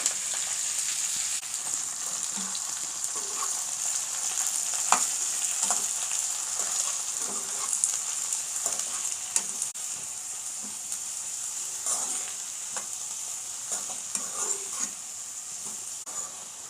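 Spring onions and garlic frying in a pan, with a steady bright sizzle throughout and scattered soft clinks and stirring scrapes.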